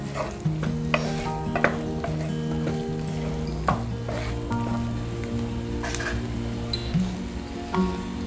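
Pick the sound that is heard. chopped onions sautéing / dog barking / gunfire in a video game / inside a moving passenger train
chopped onions sautéing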